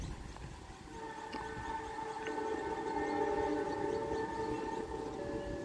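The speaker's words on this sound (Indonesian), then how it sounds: "gacor nih klaksonnya" Horn of a CC206 diesel locomotive hauling an air-conditioned passenger train in Indonesia, a sustained multi-tone blast held for several seconds over the steady roar of the moving train.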